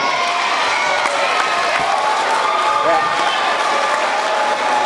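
A school dedication ceremony audience breaks into steady applause mixed with cheering and shouts, a dense continuous wash of clapping and crowd voices throughout.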